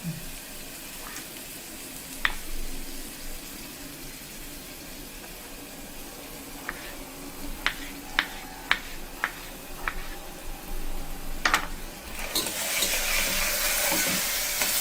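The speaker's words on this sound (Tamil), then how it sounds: "அப்பப்போ கிண்டி வச்சுக்கோங்க. நல்லா வெங்காயம் வதங்கட்டும்." Onions and tomato sauté in a pan with a steady soft sizzle while a spoon stirs, scraping and clinking against the metal now and then. Near the end comes a louder hiss that sounds like water or a tap running.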